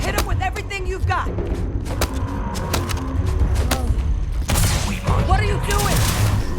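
Spaceship weapons in Starfield fire in quick thudding volleys during a space battle, with bursts of rapid shots over a constant engine rumble. Voices talk over parts of the exchange.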